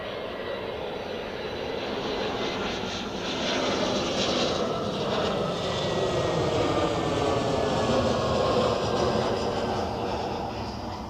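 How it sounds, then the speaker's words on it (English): Airliner touching down at Zurich Airport, a loud jet engine roar that swells and holds as the plane rolls past, with no talk. "that's a smooth touchdown there"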